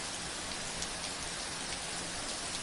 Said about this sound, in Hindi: बूंदें धीरे धीरे बरसने लगी।